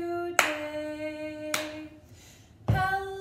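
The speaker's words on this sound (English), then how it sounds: "Clap your hands" In a music class for 2-4 year-olds, three crisp, widely spaced hand claps land over sustained tuneful music, each one sharp and distinct.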